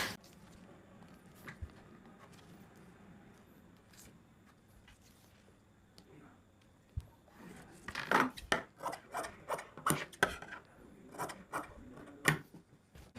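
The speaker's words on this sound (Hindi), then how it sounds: "इस प्रकार से इसका कपड़ा भी काट देते हैं।" Scissors cut through blouse fabric with faint rubbing at first, then a quick run of crisp, close snips and slides of the blades.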